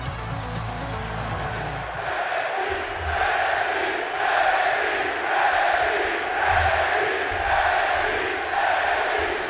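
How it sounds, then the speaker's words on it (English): A capacity crowd in a wrestling arena roars and cheers in rolling waves, swelling and dipping in loudness, with a low rumble at the start. "Capacity crowd fired up tonight, and here we go."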